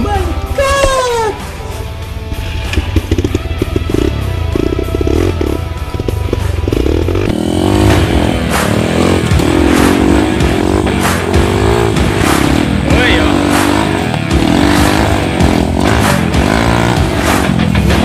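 Enduro motorcycle climbing a trail in western Pangasinan, the engine revving hard in uneven surges with clattering and scraping, close and loud, while people shout over it.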